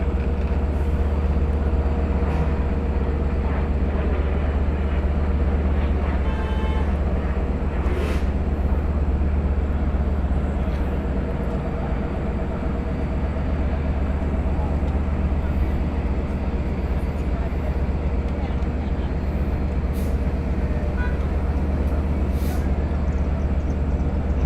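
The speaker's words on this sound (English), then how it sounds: "there goes a corporate jet taking off from Gabreski" A corporate jet takes off from Gabreski airport near Westhampton, its distant, steady roar blending into a constant low rumble from an idling Long Island Rail Road train at the station.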